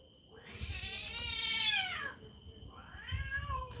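A domestic cat meows twice, first a long, drawn-out, rising-and-falling yowl, then a shorter second meow, fairly close and clear against a low background hum.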